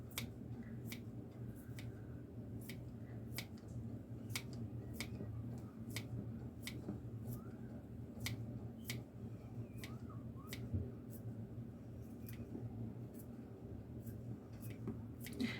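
Soup vegetables are cut into bite-sized pieces with a knife on a board, producing regular sharp chops at a steady rhythm, fairly quiet against a low room hum, with no talking.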